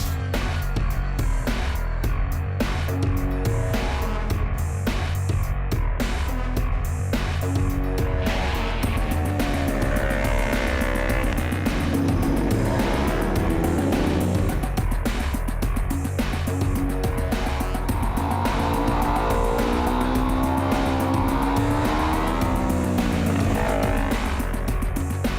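A small racing motorcycle lapping a track at an SBK meeting, its engine droning continuously and rising and falling in pitch through gear changes, loud and close throughout.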